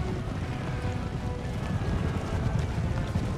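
Cavalry horses gallop across a battlefield in Empire: Total War, a dense, continuous rumble of hoofbeats mixed with wind-like noise, steady and fairly close.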